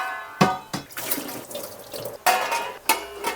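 Water poured from a yellow pan into a cooking pot while making a chicken dish, with bursts of splashing and running water coming and going, close and fairly loud, with no talking.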